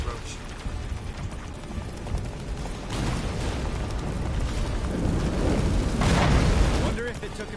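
Roach the horse galloping in Witcher 3 during a chase toward a fortress, hooves drumming under a dense rumble of wind and battle, swelling louder near the end, with a voice speaking over it.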